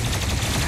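Heavy gun blasting in the shooter game Doom Eternal during a fight against a Revenant, a dense, loud burst of rapid fire with booming low end, packed tightly into a fraction of a second.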